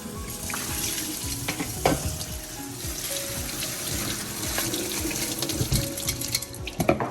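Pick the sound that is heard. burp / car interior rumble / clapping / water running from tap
water running from tap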